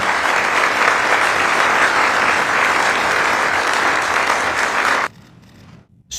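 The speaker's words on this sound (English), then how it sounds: "Applause." Sustained audience applause at a political address about the Americas fills about five seconds at steady loudness, then cuts off abruptly into near silence.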